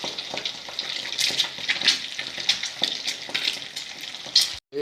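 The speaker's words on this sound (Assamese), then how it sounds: "তেলটো পূৰা গৰম হোৱাৰ পিছত এতিয়া কণীখিনি ধুনীয়াকৈ ফুলি গৈছে" Eggs fry and puff up in fully heated oil, giving a steady close sizzle with scattered sharp crackles and pops throughout.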